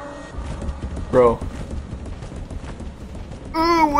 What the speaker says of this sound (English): I hear like footsteps and shit.